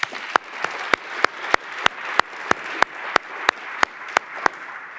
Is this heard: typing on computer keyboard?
no